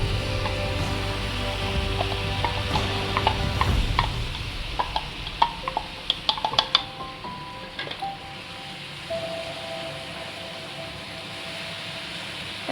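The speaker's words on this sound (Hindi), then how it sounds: "अब इसमें हम टमाटर डाल देंगे" Chopped tomatoes tumble into a pan of spring onion and paneer, a brief clatter and scrape over a constant close sizzle, with a few sharp knocks of the utensil before the frying settles into a steady hiss.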